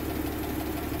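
Land Rover fitted with a transplanted Holden Commodore 3300cc engine, freshly repaired exhaust, idling steadily at close range with a continuous low rumble and no talk.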